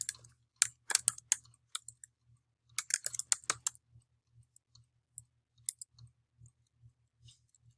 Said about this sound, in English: Maybe you could type in pre-Renaissance art.